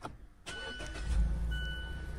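A Mazda CX-5 engine cranks briefly, catches and settles into a steady low idle, running close and clear with no voices.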